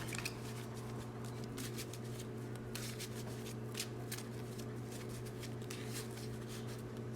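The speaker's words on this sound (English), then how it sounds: "we'll shuffle those back because if we need any more, we'll shuffle the rest back the next turn" Yu-Gi-Oh trading cards being shuffled by hand: a continuous, close riffling and flicking of card edges, with soft rapid bursts repeating over a steady low electrical hum. No voices are heard.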